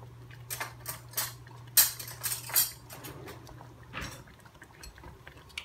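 Metal cutlery clinks and rattles close by in a kitchen as a fresh spoon is picked up, a few light taps and jangles over a low steady hum, with no voices.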